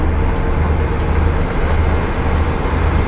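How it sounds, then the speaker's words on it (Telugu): Steady, loud low-pitched drone of a bus engine heard from inside a long-distance intercity bus with the door open, a continuous rumble with broadband road and engine noise, no talk. "డోర్ ఓపెన్ చేస్తే ఇంకా ఇంజన్ సౌండ్ గట్టిగా వస్తుంది చూడండి"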